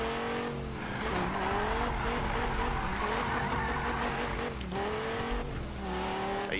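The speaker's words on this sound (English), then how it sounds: "I need to tweak this car a bit more for drifting." A car drifting in the video game Need for Speed, with a continuous roaring engine and long tire squeals that rise and fall through the turns, loud and steady throughout.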